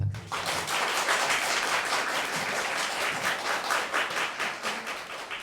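Audience applause for a cellist after a solo concert piece at a live children's instrument show, starting abruptly and continuing as a full, even patter of many hands throughout.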